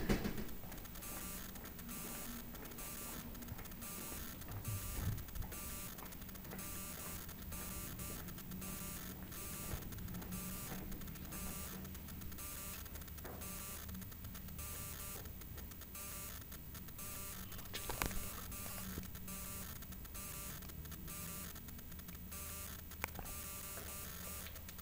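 A Schindler hydraulic elevator running inside a parking garage in Wausau, Wisconsin, gives a faint, steady low motor hum with a buzzing edge and occasional small clicks throughout.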